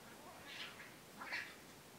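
Cats fighting somewhere in a house, with two short yowling cries. Both are faint and sound a little distant against a quiet background.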